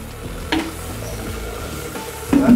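Liquid nitrogen boils in a test tube, giving a steady low bubbling hiss with a few sharper pops and bursts near the end, close and moderately loud with no talking.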